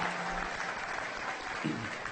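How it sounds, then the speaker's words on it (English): Steady applause from an event crowd at an annual awards ceremony, a dense unbroken wash of clapping lasting the whole moment with a brief low voice near the end. "Give these two guys a round of applause for what they've done"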